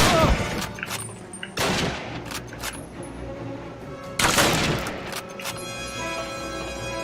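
Gunfire in the Call of Duty video game, with bursts of loud shots and heavy booms in two clustered volleys and scattered single cracks, close and intense.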